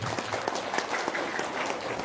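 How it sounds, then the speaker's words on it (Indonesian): An audience at a religious talk claps in a lively, continuous round of applause, with individual claps popping out of the dense wash and no clear voices. "Tepuk tangan dulu dong."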